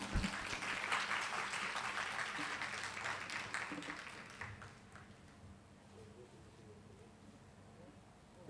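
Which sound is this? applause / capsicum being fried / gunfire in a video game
applause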